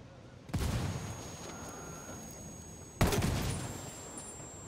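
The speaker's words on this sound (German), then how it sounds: "Granate fliegt." Gunfire and a grenade blast in the Ghost Recon Wildlands video game: two sudden bursts of crackling shots and a boom, the second stronger, each tailing off into rattling fire, fairly quiet overall.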